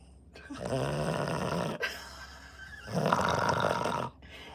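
A dog snores loudly and close by in two long, rasping breaths separated by a brief pause, with no talking over it.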